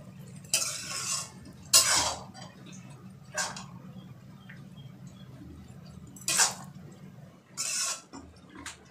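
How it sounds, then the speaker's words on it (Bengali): Maggi noodles being stirred in a pan with butter, coriander leaves and garam masala, a few separate bursts of scraping and clinking against the pan, spaced a second or more apart over a quiet low hum. "সব কিছু একটু নাড়াচাড়া করে নেব।"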